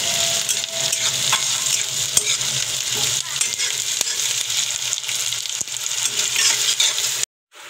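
Onion and green chillies fry in a pan for pohe, a loud, dense, continuous sizzle with irregular stirring scrapes throughout, stopping abruptly near the end.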